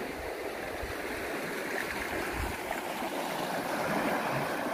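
Steady broadband rush of flowing water, like a river stream running continuously, fairly close with no voices.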